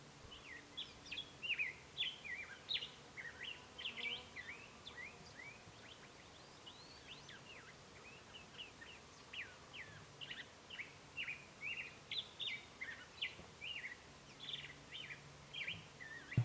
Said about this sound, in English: That's a pretty cool bird song.